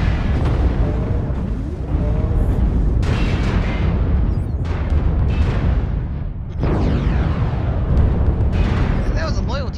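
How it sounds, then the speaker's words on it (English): Airstrike explosions in the MechWarrior Online video game, a dense run of loud booms and crashing bursts rolling over one another for the whole stretch, with voices talking over the barrage. "Airstrike activated."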